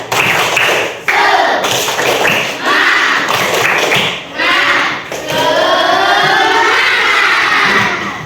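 Schoolchildren performing the tepuk semangat clapping chant in a classroom, loud sustained crowd of young voices chanting and shouting with bursts of rhythmic clapping, briefly pausing between phrases.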